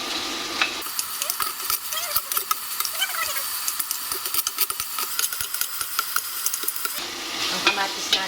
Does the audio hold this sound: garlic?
yes